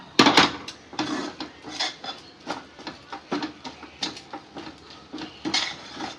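Spoon scraping and stirring thick coconut burfi mixture in a pan, steady rhythmic clinks and scrapes repeating about once a second, close and clear with no talk.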